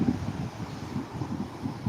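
Strong seaside wind at Diu buffets the microphone, making a continuous low roaring rumble with gusts that swell and ease throughout.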